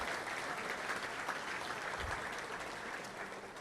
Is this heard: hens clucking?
no